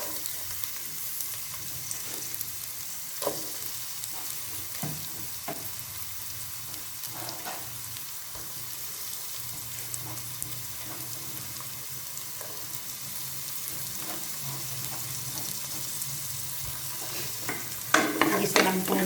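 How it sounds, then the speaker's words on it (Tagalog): Chopped garlic and onion sauté in a pan, a continuous close frying sizzle with scattered clicks and scrapes of stirring throughout and a brief louder clatter near the end. "Haluin lang po natin itong sibuyas at saka bawang."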